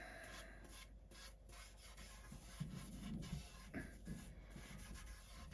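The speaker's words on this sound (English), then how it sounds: "I'll rub it in, and I'll take any of the excess off and put it on the sides" A cloth rubs TruOil finish into the wooden body of a Firebird guitar kit, giving close, soft, uneven rasping and wiping strokes that swell in the middle, faint and alone with no voices.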